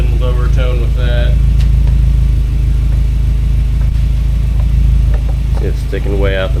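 A car engine idles with a muffler fitted to the exhaust, giving a deep, steady low rumble that stays constant throughout, with someone talking over it.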